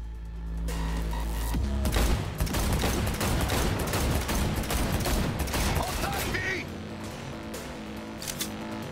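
Rapid bursts of gunfire in a car shootout in the video game Cyberpunk 2077, loud clustered shots cracking over engine rumble for several seconds, then thinning out, with game voices in the mix.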